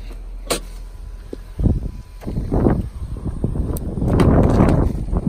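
The sunroof of a 2019 Honda CR-V EX-L opens with a steady electric motor hum inside the cabin, joined by soft clicks and a rising whoosh of sliding movement.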